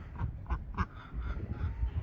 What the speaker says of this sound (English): Come on, little scaredy duck.